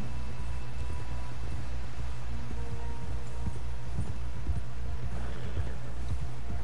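A horse gallops in the video game Red Dead Redemption 2, its hoofbeats a fast run of low, rhythmic thuds under a constant outdoor ambience.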